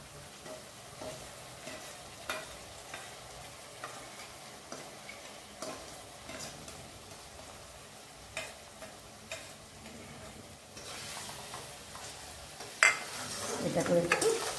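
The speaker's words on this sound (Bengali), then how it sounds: "ভালো করে ভেজে নিই" Green chili, ginger and garlic paste frying in a pan, with a soft steady sizzle and scattered utensil scrapes and taps, louder stirring near the end.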